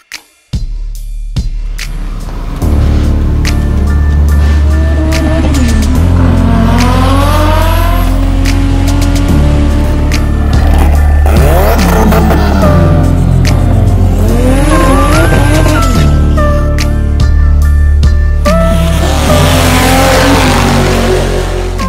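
A 700-horsepower Honda Civic race car launches hard down a drag strip: loud, close engine roar that revs up through repeated rising sweeps, with tire squeal and a brief quiet start before the run.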